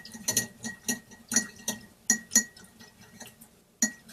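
A paintbrush rattling against the inside of a glass water jar while being rinsed, producing a quick series of bright, close clinks in uneven clusters, then a pause and one last clink.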